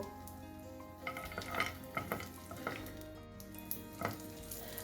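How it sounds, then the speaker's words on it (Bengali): Cashews and raisins sizzle in hot ghee in a pan while a utensil stirs and scrapes a few times, close up and fairly quiet. "ঘিটা ভালো মতো গরম হয়ে গেলে এর মধ্যে একটু কাজু কিশমিশ দিয়ে ভেজে তুলে নেব"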